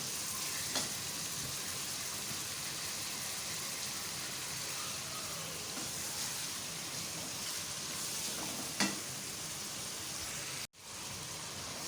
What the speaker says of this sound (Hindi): मटन हमारा अच्छी तरह से भून गया है